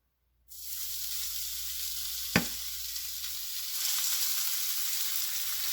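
Braciole dropped into olive oil in a pan over medium heat, starting a steady close sizzle with a brief sharp crackle, the frying growing a little brighter and louder toward the end.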